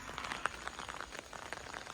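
Light rain patters softly and steadily, a faint even drizzle of drops striking a surface, with no voices.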